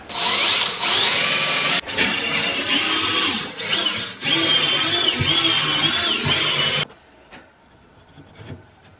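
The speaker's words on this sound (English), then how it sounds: "I can drill all the way in. I'm going 3 inches deep through the material" A power drill bores 3 inches deep through a wooden shelf bracket support and the brace behind it, whining loudly and steadily up close for about seven seconds before cutting off to near silence.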